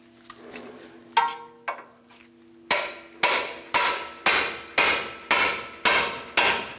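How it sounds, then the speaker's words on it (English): Metal hammer blows ring out on a pickle fork separating a front control arm joint on a Nissan Versa, a few scattered strikes first, then a steady series of about eight sharp, evenly spaced clanks on metal. "Let's use a pickle fork and a hammer and separate this area."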